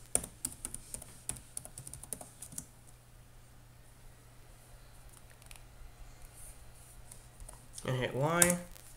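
Someone types a password on a computer keyboard, a quick burst of close key clicks for a couple of seconds, then quiet room tone, followed by a brief voice near the end.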